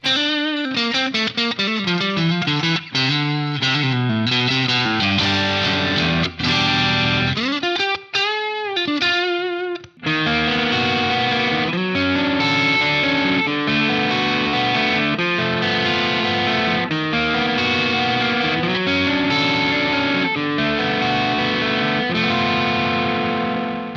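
Mooer MMT 100FR Floyd Rose electric guitar on a coil-split pickup, played through effects with distortion and chorus: busy chords and single-note runs with whammy-bar dives near the start, loud and continuous, with no talking.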